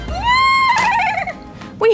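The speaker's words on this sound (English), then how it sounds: "a horse." A horse neighs in a loud, clear whinny with a rising and falling pitch, part of a children's animal-sounds toy barn, followed by a brief voice at the end.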